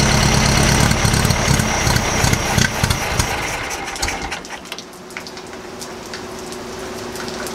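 A 1956 VW Beetle engine idles loudly, then, starved of fuel by a disconnected fuel pump, its rumble falters and fades to an uneven, weaker sputter as it dies, with faint ambient noise behind.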